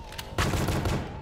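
Enemy shooters open fire in a horror video game set in a haunted horse meat factory, a rapid burst of loud gunshots rattling in quick succession after a brief lull.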